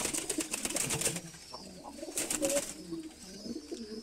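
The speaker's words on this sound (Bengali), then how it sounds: "একটা জাবরা কবুতর" A Jabra pigeon coos close by in low, soft, throaty bursts that repeat at an uneven pace, while other birds flutter and chirp faintly in the background.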